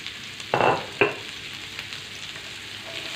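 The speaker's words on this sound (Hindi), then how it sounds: "हमारा अदरक लहसुन हो गया है, इसमें हम कटे हुए प्याज डाल देंगे।" Chopped onions dropped into a pan of frying ginger and garlic, giving two quick sizzling bursts near the start, then a softer steady fry with light stirring.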